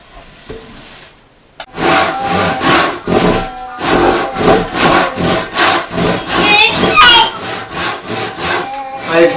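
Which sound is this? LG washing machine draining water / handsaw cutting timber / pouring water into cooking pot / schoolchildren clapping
handsaw cutting timber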